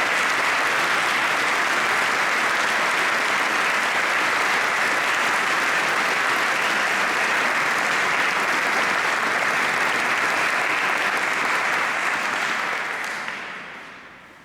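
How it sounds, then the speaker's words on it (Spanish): Sustained applause from a concert audience for the musicians of a chamber orchestra at a Three Kings carol concert, a dense, steady wash of many clapping hands that holds evenly for about thirteen seconds before fading out. "Un fuerte aplauso para ellos."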